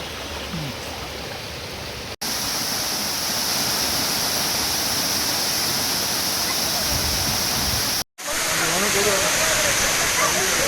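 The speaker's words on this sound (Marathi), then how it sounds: "सातपुड्याच्या कुशीमध्ये बघा धबधबा खाली पडत आहे" Jatashankar waterfall in the Satpura hills, a loud, steady roar of falling water that fills the whole stretch, broken only by two brief dropouts, with a voice faintly present beneath the rush.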